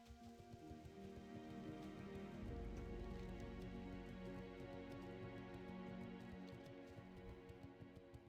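Rain patters steadily in World of Warcraft Classic, a soft continuous wash of drops with a gentle swell in the middle, heard alone with no talk.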